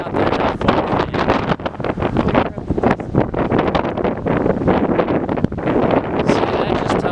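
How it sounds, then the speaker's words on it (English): Strong gusts in a severe summer thunderstorm on the south central Pennsylvania–Maryland border, roaring and buffeting the microphone in loud, uneven bursts that never let up. "we're getting some strong wind gusts"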